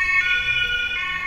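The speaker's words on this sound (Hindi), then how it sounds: "पुलिस की गाड़ी आ रही है, भागो भागो" A police car's siren sounds on a street as pedestrians jaywalk at a red light, a steady loud wail with sustained tones that carries on without a break and no voices over it.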